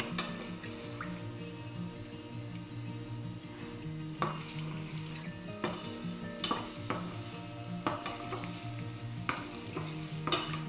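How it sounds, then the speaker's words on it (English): Steady sizzling of garlic frying in hot oil, with occasional stirring scrapes and clinks of a utensil against the pan. "you can already see it's already like frying already"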